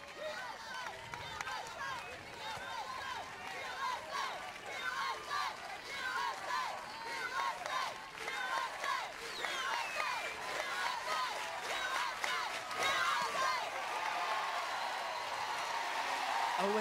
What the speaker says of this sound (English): Dueling crowd noise. We've got Alabama fans clapping, South Alabama fans chanting USA, USA.